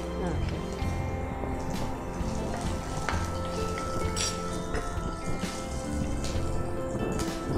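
Green chilli sizzling as it fries with garlic in a home kitchen pan, a dense, steady crackle and spatter of hot oil throughout.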